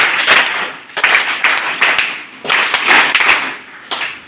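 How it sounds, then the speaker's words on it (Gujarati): A gathered audience of guests at a children's welfare institution claps in unison three times, each round a loud burst of sharp hand claps close by, with brief gaps between them. "આવેલા તમામ મહેમાનોનું આપણે 3 તાળીથી સન્માન કર્યું."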